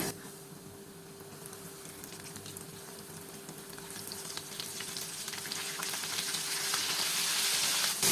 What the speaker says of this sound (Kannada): ಚಿಕನನ್ನು ಎಣ್ಣೆಗೆ ಹಾಕಿದ್ದೀನಿ